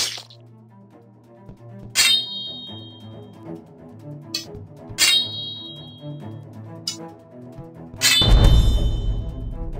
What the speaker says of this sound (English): Block his attack with your sword.